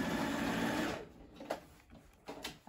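A sewing machine stitches the shoulder seams of a bandana dress in a loud, fast whirring run that stops after about a second, followed by a few faint clicks and brief bursts.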